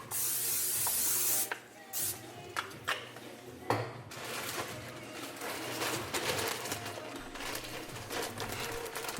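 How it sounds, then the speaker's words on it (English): Cooking spray hisses onto a pan in a steady, close burst lasting over a second, followed by kitchen clatter and soft handling noises. "Had a little cooking spray on the pan."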